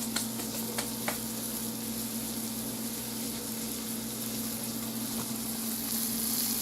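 Flour-coated pieces fry in a small pan with a steady, close sizzle and a constant hum underneath, with a few light clicks near the start and no talk.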